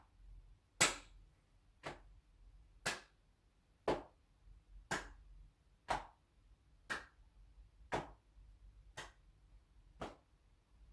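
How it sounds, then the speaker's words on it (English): Alternating leg taps and hand claps during a seated chair-based exercise routine: about ten sharp, evenly spaced claps roughly one per second, fairly close and clear over a faint low background hum, with no talking. "And tap the legs, clap the hands."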